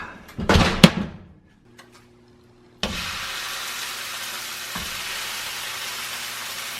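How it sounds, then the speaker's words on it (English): After a burst of clattering and a brief lull, pork chops hit a hot pan and a loud, steady sizzle takes over, with a low hum running beneath it. "You should hear the pork chops sizzle immediately"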